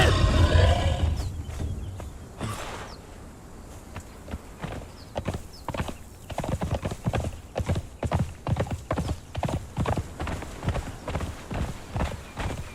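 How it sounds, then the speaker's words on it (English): Horse hooves clip-clop in Conan Exiles, a quiet stretch first giving way to a steady run of loud, close hoofbeats in a quick regular rhythm, with a growl and roaring animal noise early on. "I'm asking my horse to attack the crocodile."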